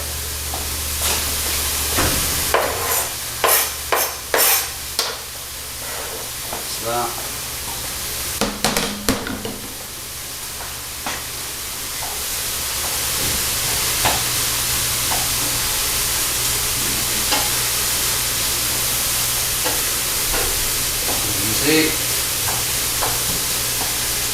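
Chopped pepper and garlic hit a hot pan over onions and peppers, giving a loud steady sizzle and hiss with spoon scrapes and clatter, briefly broken by a short spoken remark.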